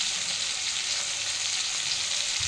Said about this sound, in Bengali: এদিকে আমি চিংড়ি মাছটা ভেজে নিচ্ছি